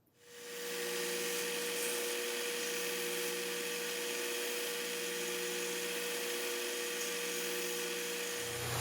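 A tap cutting thread into brass for a hose clamp, a steady high whine with a constant hum and faint rasp, sustained and close after a quick start-up, no voices.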